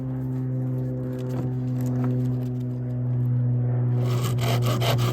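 Knife carving an oak spindle to straighten it, with scraping and shaving strokes close by over a steady low hum, the scraping growing denser and more rapid toward the end.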